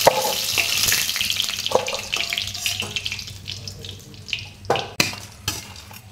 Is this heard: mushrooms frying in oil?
yes